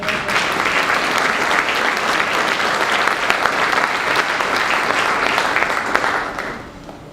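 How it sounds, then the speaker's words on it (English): An audience at a Tuskegee Airmen honor ceremony gives board member Mark Hatcher a warm round of applause, loud and sustained for several seconds before tapering off at the end. "Ladies and gentlemen, give a warm round of applause for King Arts Complex board member,"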